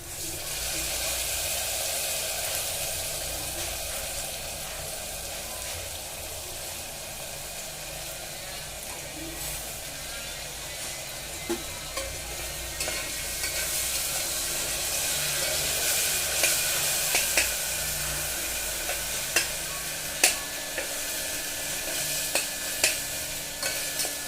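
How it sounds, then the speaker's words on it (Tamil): Ginger garlic paste sizzles and spatters in a hot pan for millet khichdi, a continuous frying hiss with occasional stirring clicks and pops, fairly quiet and close. "நம்ம அரைச்சி வச்சுருந்த இஞ்சி பூண்டு பேஸ்ட்டு ஆட் பண்ணிக்கிறோம்"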